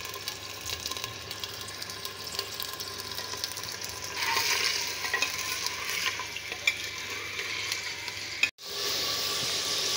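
Chicken nihari fries in hot ghee while it is stirred: a continuous close sizzle with scraping stir strokes that swells midway, then a brief dropout before the frying resumes.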